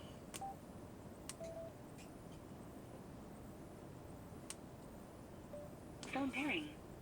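A Sena Bluetooth motorcycle headset plays a short run of electronic beeps and a rising tone sequence as it enters pairing mode, faint and close against a low hiss with brief clicks.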